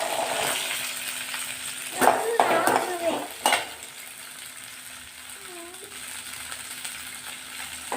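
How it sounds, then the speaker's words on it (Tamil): Crushed sundakkai (turkey berries) sauté in oil, with a steady sizzle, a cluster of sharp utensil clatters and scrapes in the middle, then quieter frying, plus a faint brief voice. "இதை இப்போ எண்ணெயில் போட்டு நல்லா வதக்க போகிறேன்."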